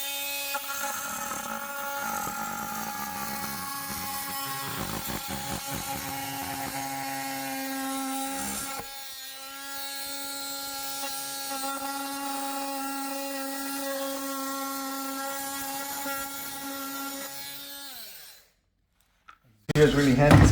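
An oscillating multi-tool fitted with a titanium blade cuts a notch for a template, giving a steady high buzzing whine for most of the stretch that stops abruptly near the end, with brief handling noises after.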